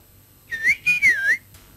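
A person whistles a short, bright melodic phrase of rising and falling notes, close and clear, lasting about a second, in a Tamil comedy TV show scene.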